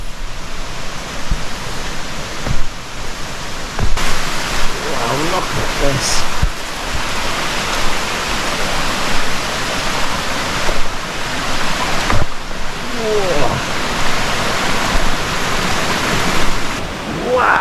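A Bali waterfall roars in a broad, steady wash of falling water, loud and close, while a person talks briefly over it.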